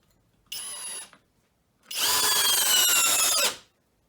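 A Skil 12V brushless drill at high speed, 1700 RPM, drives a number 10 square-drive deck screw into wood: a short whirring burst, a pause, then a longer, louder run that stops abruptly.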